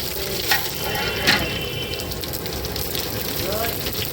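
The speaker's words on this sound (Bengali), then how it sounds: "কড়াইতে তেল দিয়ে নিয়েছে তেলের ওপরে শুকনো লঙ্কা তেজপাতা জিরে ফরং দিয়ে দিয়েছে" Dry chillies, bay leaf and cumin fry in oil in a kadai for fish kalia cooked for a festive gathering, giving a continuous close sizzle with a few louder spatters near the start.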